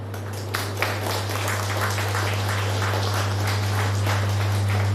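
An audience claps at an Indian Overseas Bank officers' association regional meeting in Nagercoil, sustained, moderately loud applause from a hall crowd over a steady electrical hum.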